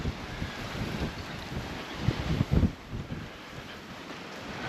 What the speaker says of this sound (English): It's too bloody windy.